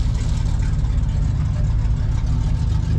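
A stock engine in a Pontiac Firebird idles at an outdoor car show cruise-in, a steady loud low rumble that runs without a break, with talk audible over it.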